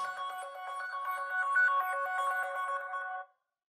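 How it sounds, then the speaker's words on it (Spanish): An Aquaris X Pro phone rings at full volume after being triggered by Google Home, a steady melodic electronic ringtone with repeating tones that plays alone for about three seconds and then cuts off abruptly. "tu Aquaris X Pro ya debería estar sonando"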